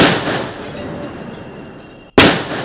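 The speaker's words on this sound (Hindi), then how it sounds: "ये धमाका देखिए कितना तेज और इंटेंस ये धमाका है" A loud, sharp blast from a planted IED going off outdoors in Chhattisgarh, preceded by a roaring rush of noise that cuts to silence before the sudden detonation.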